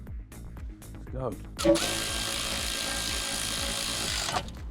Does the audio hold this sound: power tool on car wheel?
yes